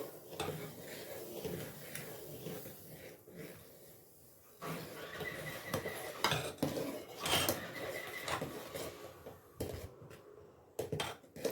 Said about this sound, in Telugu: కొంచెం గిన్నె చిన్నదైపోయింది కదా పొంగి వస్తుంది అందుకే ఇలా కలుపుతున్నాను నేను